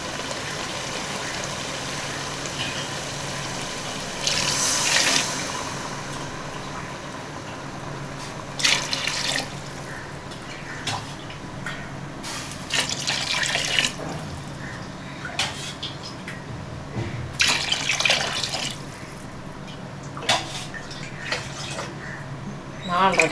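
Four and a half glasses of water poured into a pot of rice for chicken biryani, an uneven splashing and trickling of liquid with occasional louder pours and clinks, close by.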